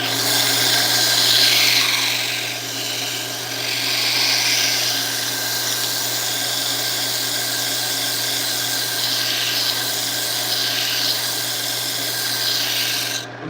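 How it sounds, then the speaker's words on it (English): Abrasive rasping of sandpaper against a spinning segmented wooden bowl on a lathe, a steady continuous scratch with slow swells in intensity over the motor's constant hum, close and fairly loud with no talking. "Just checking for any more imperfections. If I got them, I'll sand them away."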